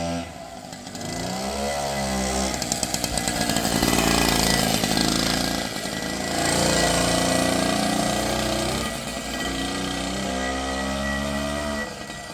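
Small Avanti X-Bike motorcycle engine running, a buzzy, harmonic drone that rises and falls as the throttle is worked, revving up in the middle and settling back, heard steadily with no talk.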